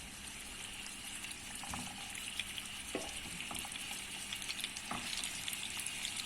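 Potatoes sizzling and crackling in hot oil, a steady bright frying hiss with occasional pops and a few clinks, no voices.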